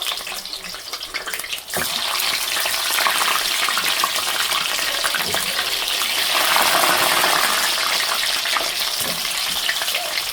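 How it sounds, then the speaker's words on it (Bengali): Frozen singaras dropped into hot oil set off a loud, dense, continuous sizzle that keeps going steadily after a short quieter start, with no talk. "বন্ধুরা, আজকে সিঙ্গারা ভাজবো, তোমাদের সাথে শেয়ার করছি। তেলটা গরম হয়ে গেছে, দিয়ে দিলাম।"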